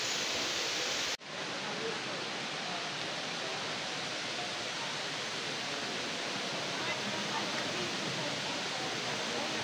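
Indoor waterfall inside the Dubai Mall, a steady loud rush of falling water that fills the whole clip after a brief opening burst, with no pause or change in level.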